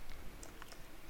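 A short burst of keystrokes on a computer keyboard while a name is entered into a web form, the soft clicks faint and close, alone in a quiet room.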